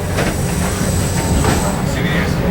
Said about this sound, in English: The train crosses.